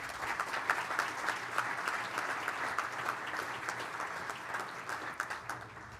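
A big round of applause from the audience at a spring civic dinner, steady dense clapping from many hands at a moderate distance, continuing for several seconds without speech.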